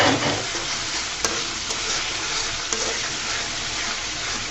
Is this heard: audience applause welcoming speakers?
no